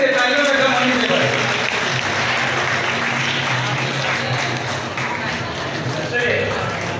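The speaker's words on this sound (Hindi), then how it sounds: "तालियां बजने दीजिए।" Applause from an audience at a Chero tribal community gathering fills the whole stretch, a steady dense clatter of many hands with a voice talking over it.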